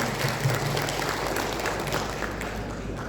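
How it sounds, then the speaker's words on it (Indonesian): Applause from an outdoor audience at a village groundbreaking and program launch in Subang, West Java, a steady dense clatter of many hands filling the short stretch at even volume with no voices on top. "Tepuk tangan untuk semua."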